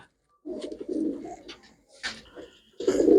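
Domestic pigeons kept for sale coo in a few separate bursts, throaty and rolling, close by, with short pauses of quiet between them.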